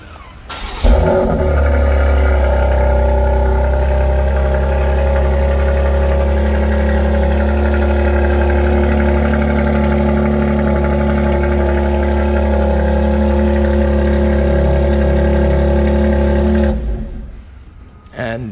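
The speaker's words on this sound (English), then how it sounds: "That's what a cold start sounds like on the X3M with the S58." A 2023 BMW X3 M Competition with the S58 engine cold-starts, its loud steady idle roaring up close and holding for about sixteen seconds before cutting off abruptly.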